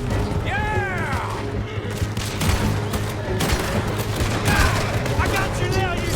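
A dense, continuous exchange of gunfire in Red Dead Redemption 2, with rapid pistol and rifle shots cracking over one another in a loud firefight while game characters shout throughout.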